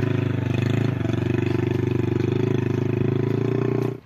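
A motorcycle engine chugs in a close, loud, even rhythm while riding a rough desert village track, then cuts off abruptly at the end.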